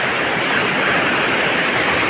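Floodwater rushes loudly past an area it has overtopped, a steady, dense roar of churning water with no pauses, close and alone with no talk.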